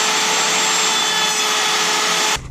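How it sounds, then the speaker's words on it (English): Wood router cutting a fin box recess into a wooden surfboard along a clamped jig, a loud steady high whine and roar held continuously, then cutting off abruptly near the end. "I've clamped on a jig that is just going to guide the router around"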